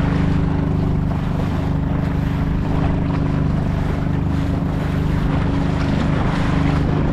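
Boat riding over sea waves off Silifke, with a steady engine drone and continuous wind and water rush, rough and unbroken throughout.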